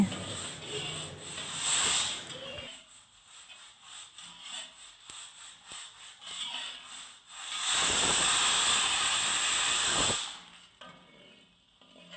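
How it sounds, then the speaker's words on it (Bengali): Panch phoron spices tempering in hot mustard oil in a kadai, a close, bright crackling hiss that flares loudly at the start, eases to softer sputtering, then surges again in a long intense sizzle before dying down. "কড়াইতে সর্ষের তেল দিয়ে পাঁচফোড়ন দিয়ে দিচ্ছি"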